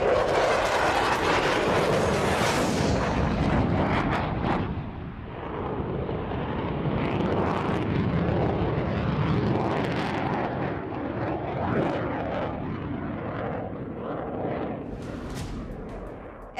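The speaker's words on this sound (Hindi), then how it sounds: "ये है रूस का सबसे घातक, सबसे खतरनाक, सबसे डेंजरस फाइटर जेट Su-34" A Russian Su-34 fighter jet flies by with a loud, sustained roar that swells strongly at first, then settles into a long, rough rumble with no voices.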